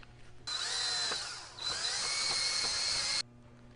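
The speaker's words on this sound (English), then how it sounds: "we're going to go ahead and use a drill and with a wire brush and clean the contact surface" A high-pitched power drill whirs with a wire brush scraping a metal wheel hub mating surface, running about three seconds with a brief dip in speed midway, close up.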